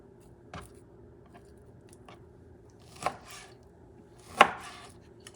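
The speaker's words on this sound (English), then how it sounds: "I'm going to cut this in pieces, smaller pieces" A knife chops beef into small pieces on a board, a few sharp, separate knocks spaced irregularly against a quiet background.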